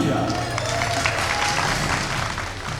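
An audience at the Assises de la Maurienne gathering applauds continuously, a dense even wash of many hands clapping throughout, with some voices mixed in.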